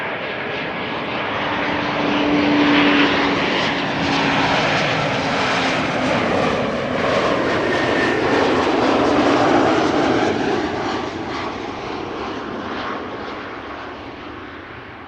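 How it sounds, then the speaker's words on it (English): An Air Dolomiti Embraer 190 jet arrives from Frankfurt at Amsterdam Schiphol, its engine roar swelling and holding strong, then slowly fading toward the end. "Air Dolomiti returning from Frankfurt, Embraer 190"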